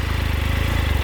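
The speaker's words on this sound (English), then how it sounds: "I will say it isn't a loud exhaust." A Triumph Tiger 1200 XRT motorcycle engine with titanium exhaust idles close up with a steady, even low burble and pulsing exhaust, moderately loud, no voices.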